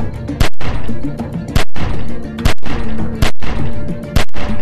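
Loud, sharp gunshots hit a window in The Walking Dead video game, about eight close cracks in an uneven rhythm over a continuous background rumble.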